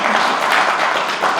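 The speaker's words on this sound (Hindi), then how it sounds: "ताली बजे।" An audience at a Chhattisgarhi stage program with Rameshwar Vaishnav breaks into a burst of applause, a dense, steady wash of clapping throughout the moment.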